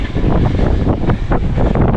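Strong gusty wind with rain on the Gold Coast, Australia, roaring loudly and continuously against the microphone in close, buffeting surges.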